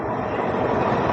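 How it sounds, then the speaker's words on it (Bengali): A MEMU local train pulls into platform 2 at a station, a loud close rumbling rush with a steady mechanical roar filling the brief moment. "আমাদের ট্রেনকে 2 নম্বর প্ল্যাটফর্মে দিচ্ছে"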